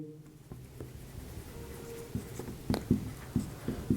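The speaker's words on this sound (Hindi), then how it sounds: "अब मैं इसके बारे में भी यहां पर लिख देता हूं" A pen writing on paper, close up: a run of short scratching strokes with faint taps that grow louder and more clustered toward the end, over a low steady background hum.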